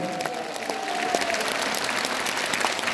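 A church congregation claps together in a short burst of applause, fairly dense and moderately loud, with a few sharp individual claps standing out.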